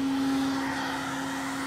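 A hairdryer blows steadily up close into a motorcycle fuel tank through the filler cap, a constant whooshing roar with a faint motor whine, loud and unbroken.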